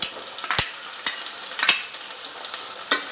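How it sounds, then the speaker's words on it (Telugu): Eggplant pakodi fry in hot oil with a soft, steady sizzle, and a few sharp clicks and scrapes of a utensil in the pan sound up close. "ఇవి దోరగా ఫ్రై చేసుకోవాలండి"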